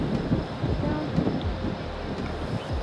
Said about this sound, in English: Oh, come on, wind.